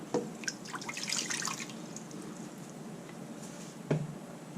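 A cup of water pours and splashes into a wok in a short burst, then trickles and drips quietly, with a small clunk near the end.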